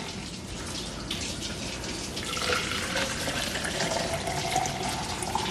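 Running tap water filling a tall cup, a close continuous splashing hiss that grows fuller and slightly louder partway through, with no talking.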